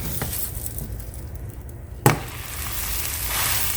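Sandwich toasting in a hot pan, a steady soft sizzle with one sharp clatter as it is flipped, then the frying hiss continues.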